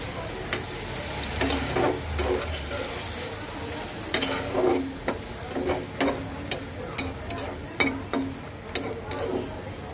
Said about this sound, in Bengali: আমি আবার একটু মিক্সড করে দেব।